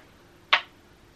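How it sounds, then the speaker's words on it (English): Rainbow pop-it silicone fidget toy pressed on its hard side, giving a single short dry pop, close up in a quiet room with no voices. "It's a rainbow poppet."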